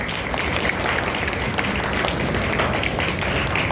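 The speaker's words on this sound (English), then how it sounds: "Please, let's have a huge round of applause for him." A hall audience at a National Pharmacovigilance Week event applauds a pathology department head, a dense, steady wash of many hands clapping throughout, loud and close, with no talk.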